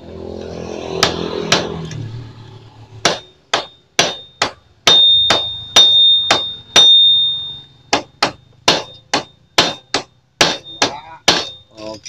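A hammer strikes a chisel while a clutch is fitted on a Honda Supra X motorcycle, giving sharp ringing metallic clangs in a steady series of about twenty hits close up after brief handling noise.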